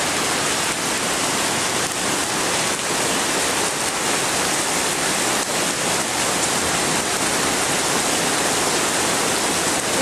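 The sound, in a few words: rain falling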